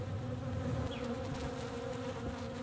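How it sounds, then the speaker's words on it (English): Many bees swarm around a water source at a wild solo motorcycle campsite, a dense continuous droning buzz, loud and steady, with no voices. "There are lots and lots of bees."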